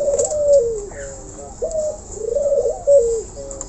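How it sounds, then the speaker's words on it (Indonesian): A captive Javan golden oriole (kepodang emas) in a cage, giving repeated mellow, fluting whistled calls in short phrases with brief pauses, clear and fairly close, with no talking. "burung kepodang, kepodang emas atau kepodang Jawa emas"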